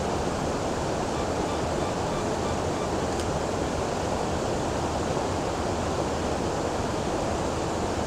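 Water pours steadily down a waterfall in Cornwall, a dense continuous rushing roar that stays even and close for the whole stretch, with no voices over it.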